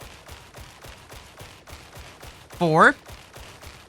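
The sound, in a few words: lasgun shots from the Darktide video game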